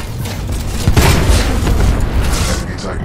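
Heavy booming blasts from mortar titans pounding a harvester in a Titanfall 2 frontier defense match on the Exoplanet map, dense and loud with rumbling detonations layered over constant battle noise.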